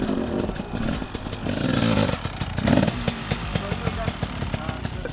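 A dirt bike engine putters and blips through a slow turn on the rear brake, uneven revs with clattery pulses, while a person talks over it.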